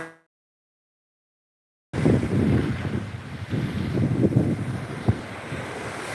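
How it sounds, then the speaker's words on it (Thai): Wind gusts and surf roll along the seashore at Khanap Nak, Pak Phanang, Thailand. After about two seconds of silence, a steady roar of wind buffeting the microphone begins over the rumble of waves, loud and close, with one sharp knock near the end. "บรรยากาศชายทะเลที่อำเภอปากพนังนะครับแถวตำบลขนาหนา"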